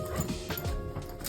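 Dogs indoors let out a few close, sharp barks and yips over a short moment, with some whimpering and background household noise but no talk.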